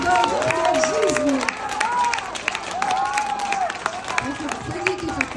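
Audience applauds a couple with steady, fairly close clapping from a modest crowd, while voices and music-like tones run underneath.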